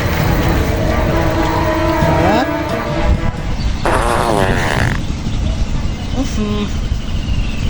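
Repeated flatulent blasts in a comic village sketch, loud and close, with a sputtering rasp in the middle and shorter puffs later over a constant busy background.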